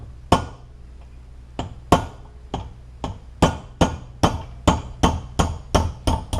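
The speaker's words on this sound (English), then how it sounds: "punch this through with a hammer and a punch." Sharp metallic hammer blows drive a punch against a roll pin in a gear on the distributor shaft of a 1969 Camaro, about fourteen close, loud strikes in a steady rhythm that speeds up toward the end, with no talk.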